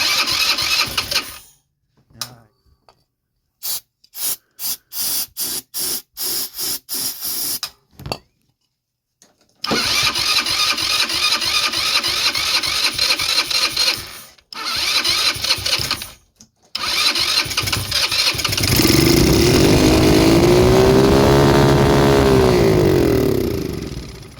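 A 150cc GY6 scooter-type engine in a Blade 150 UTV clone cranks in several stuttering starter bursts, then catches and runs loudly with uneven revving, close up and without speech.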